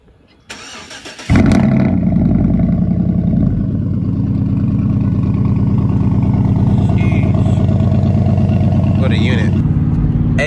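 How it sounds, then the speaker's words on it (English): A Chevrolet Yukon truck's engine cranks and fires on a cold start, then settles into a loud, steady idle that runs for about nine seconds. "let's give her a cold start"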